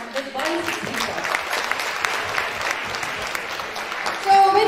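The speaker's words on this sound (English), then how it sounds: "Can we all give them a big round of applause?" An audience at a school Science Day bursts into applause for the winning quiz team, a dense, sustained clapping that swells loudly near the end.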